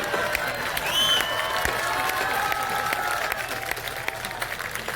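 A crowd at a Hindi poetry and comedy gathering applauds in a dense, continuous burst of clapping, with scattered whistles and cheers rising over it early on.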